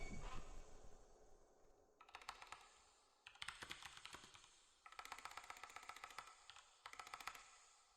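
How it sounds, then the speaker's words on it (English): Fast typing on a computer keyboard in quiet bursts, clattering keystrokes with brief pauses between runs, close and soft. "I like how my typing sounds."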